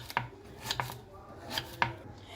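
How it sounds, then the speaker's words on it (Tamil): Several crisp knife chops through snake gourd on a board, irregularly spaced, close and fairly soft against a quiet background. "இதை இப்போ நறுக்கின்னு இருக்கேன்."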